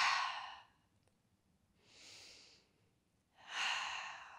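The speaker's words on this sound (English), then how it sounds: "And take a few deep breaths." Three slow, deep breaths during a yoga session for wrist pain, each a soft airy exhale or inhale with quiet gaps between, close and clear with no talking.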